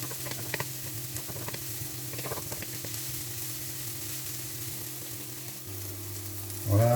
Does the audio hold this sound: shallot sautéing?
yes